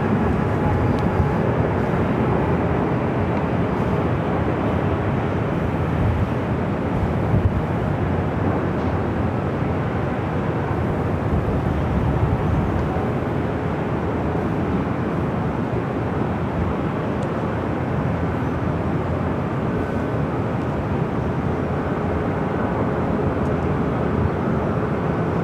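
Airliner taking off from runway 24 left at LAX, a steady, broad jet-engine roar heard from a distance that holds evenly throughout, with no talk over it.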